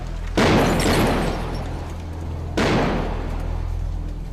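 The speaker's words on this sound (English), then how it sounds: "They launch grenades from all directions." Two heavy grenade blasts during a commando assault on a hotel in Mumbai, each a sudden loud boom with a long rumbling decay, about two seconds apart, with no voices.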